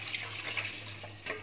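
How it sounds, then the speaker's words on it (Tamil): Milk poured into a pan of hot ghee with cinnamon and cloves, giving a brief bright splashing hiss close by, heard alone for a moment. "இப்போ நம்ம பால் ஊற்றணும்"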